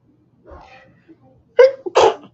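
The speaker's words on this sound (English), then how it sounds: "I have to sneeze." A person sneezes once, with a short sharp inhale leading into a loud burst, after some soft, indistinct vocal sounds.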